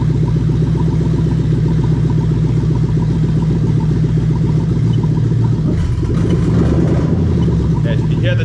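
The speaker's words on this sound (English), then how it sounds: "so you hear the change in engine note there" A Toyota 1UZ-FE V8 with VVT-i idles steadily, then its note shifts roughly two-thirds of the way through during an oil control valve test, with a brief clattering burst.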